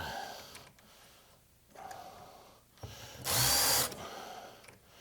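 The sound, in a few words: power drill driving screws into sink base cabinet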